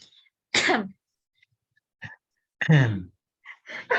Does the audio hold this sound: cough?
yes